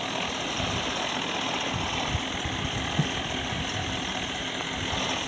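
A John Deere tractor engine runs steadily at low revs while backing up in reverse gear, a close, even diesel rumble with a slight knock throughout and no speech.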